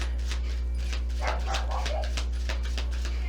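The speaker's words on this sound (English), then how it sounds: "Please ignore the dog that's barking" A dog barking indoors somewhere off in the background, several short sharp barks repeated at an uneven rhythm, fairly faint behind a steady low hum.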